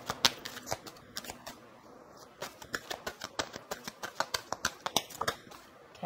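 An oracle card deck being shuffled by hand, crisp riffling snaps and flicks in irregular bursts, close and fairly quiet, with no voices.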